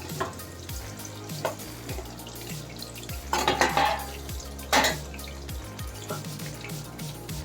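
Moringa drumsticks fry in a pan with a steady, close sizzle, broken by a few sharper clatters and stirring scrapes against the metal.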